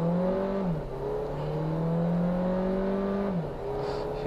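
A car pulling away from a standstill in S mode, its engine revving up steadily through two gear changes, close and loud, with no talk.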